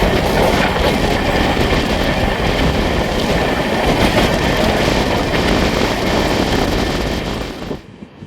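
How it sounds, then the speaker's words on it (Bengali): Rajdhani Express passenger train, the Sealdah–New Delhi service, passing close by with a loud, steady roar and rail clatter that fills the whole stretch before dropping off sharply at the end. "সামনে দিয়ে চলে আসছে ট্রেন নাম্বার 12314, ভারত রেলের রানী ট্রেন নাম্বার 12314, রাজধানী নতুন দিল্লি শিয়ালদা কুইন অফ রাজধানী এক্সপ্রেস"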